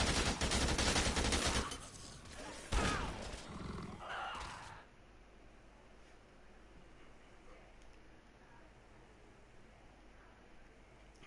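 Gunfire in the Dead Rising 2 video game, a dense burst of rapid shots in the first few seconds, then quieter scattered noise fading to a low hiss, with faint talking.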